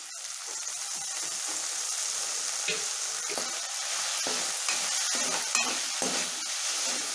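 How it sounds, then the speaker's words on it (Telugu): Gongura and drumstick-leaf chutney stirred as it fries in oil, giving a steady, close sizzle with repeated scraping strokes of the spoon throughout, no voices. "కొంచెం నూనె వేసుకొని ఇలా కలిపేసుకుంటే రెండు నిమిషాలలో మగ్గిపోతుందండి"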